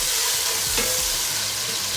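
Garlic ginger paste fries with browned onions in a pan, giving a steady, close, dense sizzle with a faint stirring scrape and no talk.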